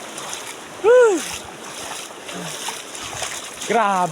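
Floodwater rushes after a sudden heavy downpour in Puago, Kiamba, Sarangani province, a steady broadband wash beneath a man's excited exclamations and brief calls.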